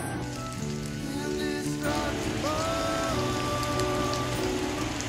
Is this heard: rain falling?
yes